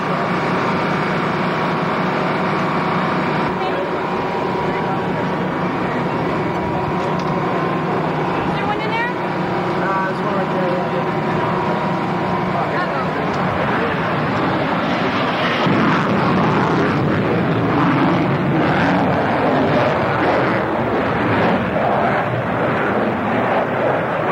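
A Tomcat jet at the 1993 South Weymouth air show gives a sustained, loud broadband roar that swells stronger in the second half and holds steady across the whole stretch.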